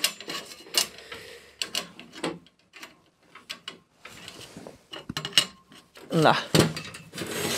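A copper fitting is screwed into a hole by hand while building a copper manifold, giving scattered metallic clicks, scrapes and taps near at hand, with brief French speech in between.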